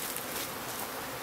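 A package of about 10,000 honeybees being installed into a new hive drones in a steady, dense buzz, close and continuous with no breaks or talking.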